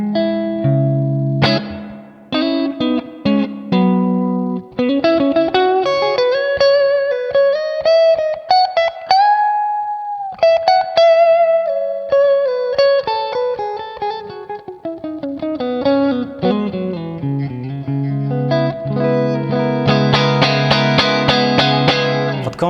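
Clean electric guitar played through a Valeton GP-5 multi-effects unit with reverb at 30 percent mix and 50 decay, sustained notes and chords in a melodic line ringing out with a lingering wash behind them.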